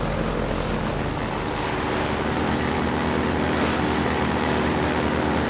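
A helicopter in a video game drones in a loud, continuous rotor and engine roar, steady from start to end, with no talk.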